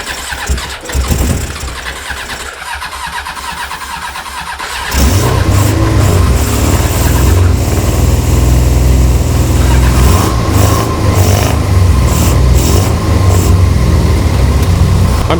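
A run-down Yamaha XJ 600 motorcycle being started with starter spray: several seconds of cranking give way to the engine catching and running loudly and steadily, close to the microphone, with irregular revs.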